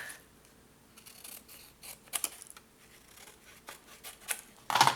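Scissors cut scrapbooking paper in a series of light, close snips and paper rustles, ending in a louder crinkle as the paper is handled.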